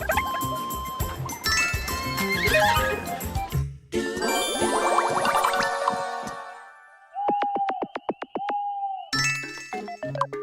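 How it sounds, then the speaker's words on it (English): Game audio from Miitopia with busy chiming music and effects, then a run of short, evenly spaced high-pitched bleeping calls standing in for horse dialogue, repeated and fairly loud, with no talking. "Maybe someone in the team just made like unique horse dialogue sounds and everyone else thought it would be funny to use it somewhere"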